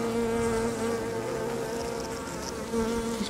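A dense swarm of honeybees hums around their queen in the Meyerland area, a steady, close, many-voiced drone with a few louder passes of individual bees and no talking.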